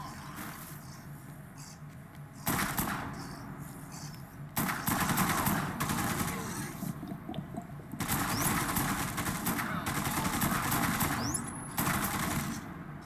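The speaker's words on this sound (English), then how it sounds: "Please shoot that zombie." Rapid gunfire in the zombie game Dead Rising 2, with several bursts of automatic shots rattling in quick succession at moderate volume, separated by short quieter gaps.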